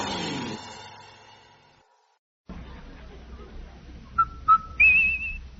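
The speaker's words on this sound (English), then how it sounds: "you hear that whistle?" After a brief musical passage and a pause, a few short whistle blasts sound, followed by a longer rising whistle.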